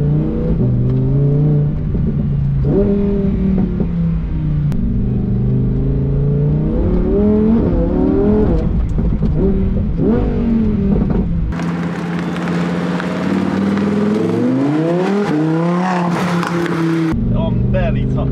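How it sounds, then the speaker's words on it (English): A supercar engine accelerates while driving, heard from inside the cabin as a strong, rising and falling roar with repeated climbs in pitch as the gears change, loud and continuous throughout. "I'm barely touching that throttle and it just goes."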